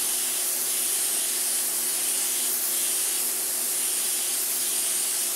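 A paint sprayer hisses continuously as it sprays paint, a steady airy rush with no compressor noise or talking underneath.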